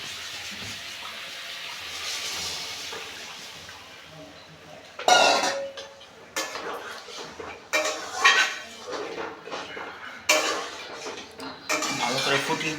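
Liquid poured into a pot of tangra fish curry whose spiced gravy has just been fried down, with sharp metal pot and spoon clanks and scraping stirs coming in bursts over the second half, close by.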